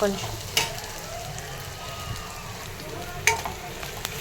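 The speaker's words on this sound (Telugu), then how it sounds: "ఇప్పుడు కరివేపాకు మంచిగా వేగింది, ఆనియన్స్ వేగినాయి, అల్లం వెల్లుల్లి పేస్ట్ మగ్గుతుంది" Curry leaves, onions and ginger-garlic paste fry in a pan with a steady, low sizzle throughout, broken by a couple of sharp stirring clinks near the start and end; no one speaks.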